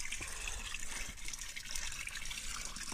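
Cool spring water runs from a source near the Nizhny Tagil ski jumps, a steady close trickle and splash with no voices.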